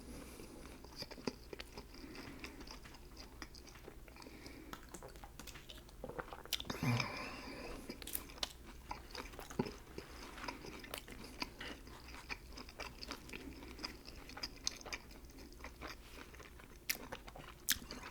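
Quiet, close chewing of a Subway Canuck Classic sandwich with bacon, with soft wet crunches and squishy bites repeating throughout and one louder crinkly rustle midway, and no talk.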